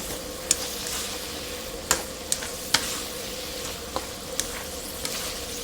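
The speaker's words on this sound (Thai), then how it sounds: "ผัดพอหอมๆตะไคร้ออกมานิดนึง" Sliced lemongrass sizzles steadily in a hot pan while a utensil scrapes and clinks against it every second or so as it is stirred.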